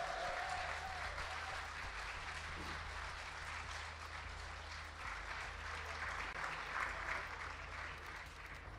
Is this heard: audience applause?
yes